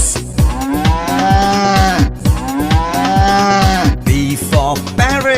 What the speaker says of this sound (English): O for ox.